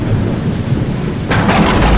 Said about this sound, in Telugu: సుమారు 2 రోజులుగా ఉరుము మెరుపులతో భారీ వర్షం కురిసింది